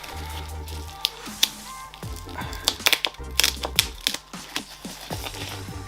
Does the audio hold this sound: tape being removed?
yes